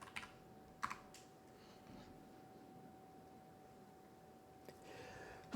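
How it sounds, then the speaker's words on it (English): A few light keystrokes on a computer keyboard as a short command is entered, sparse and faint taps with long quiet gaps and a steady low hum underneath. "I will type info."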